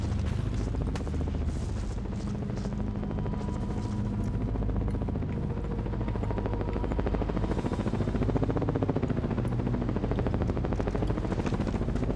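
Helicopter rotor chopping continuously in the video game Ghost Recon Advanced Warfighter, a loud, droning whir with rising and falling pitch throughout.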